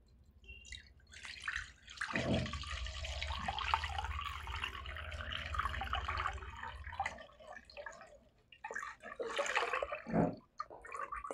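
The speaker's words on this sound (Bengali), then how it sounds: "প্রথমে আমি দুধটাকে ছেঁকে নেব" Fresh cow's milk poured and strained through a sieve, a close watery trickle and splashing that runs in a steady stream for several seconds, then breaks into softer drips and short pours.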